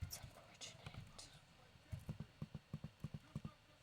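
Horse hooves clip-clop in a video game, first as quiet scattered steps and then as a quicker, steady run of light taps. Someone talks softly underneath.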